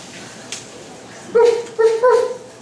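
Recorded dogs barking, played in a school speech-contest hall: a few short, loud yips and barks in quick succession over a quiet room background.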